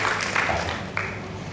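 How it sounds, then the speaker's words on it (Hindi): Applause from a studio audience at a baking competition show welcomes Chef Afsha Mansoor, a short burst of steady clapping. "सो आप सबकी भरपूर तालियों में शेफ अफशा मंसूर को भी वेलकम करते हैं"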